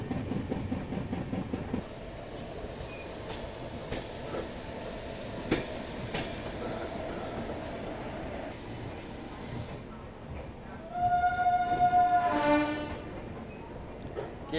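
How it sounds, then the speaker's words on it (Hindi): The Chennai Rajdhani pulling into platform 2 at Jhansi junction, a low rumble and rattle of rolling coaches under a faint voice, with a brief brighter squeal near the end as the train slows. "यहाँ पे ट्रेन झांसी के प्लेटफॉर्म नंबर 2 पर आ चुकी है"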